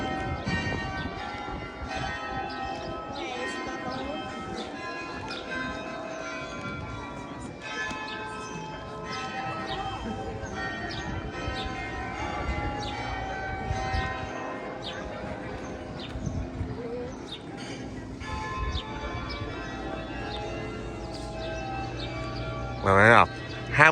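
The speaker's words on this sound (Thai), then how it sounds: "เขาเลยเคาะระฆังนะ" Church bells ring in Frankfurt, sustained resonant tolling carrying through the street at moderate distance, with a person talking over it and busy city ambience around.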